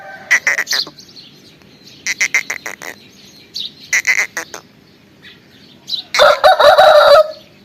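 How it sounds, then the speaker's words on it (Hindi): A rooster and hens in a village yard at early morning, with a few sharp bursts of calls and clucks separated by quiet gaps, ending in a loud, drawn-out crow close by. "इधर जो है मुर्गी और मुर्गा जो है"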